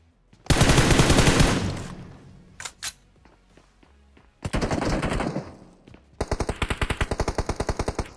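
Heavy automatic gunfire from a fierce BGMI firefight: loud, close sustained bursts, a few scattered single shots between them, then a long rapid string of evenly spaced rounds at the end, with no talking.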